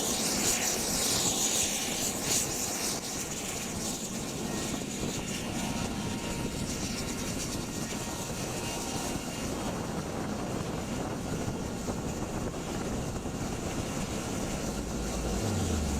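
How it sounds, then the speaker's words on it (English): MV-22 Osprey tiltrotor aircraft in flight, a steady broad rotor and engine roar with a rough, throbbing texture, moderately distant and continuous, with no voices. "This is the MV-22 Osprey, which can transform from a helicopter into a plane."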